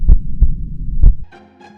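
A deep heartbeat sound effect gives three loud, heavy thumps at an uneven pace, followed by a brief, quieter humming tone.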